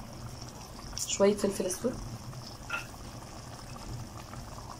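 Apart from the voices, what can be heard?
tomato sauce boiling in a pot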